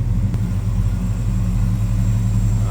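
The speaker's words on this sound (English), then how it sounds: "Nice, deep, throaty exhaust note." A 1966 Chevrolet Chevelle SS 396 idles with a deep, throaty, even exhaust rumble that holds steady and close throughout.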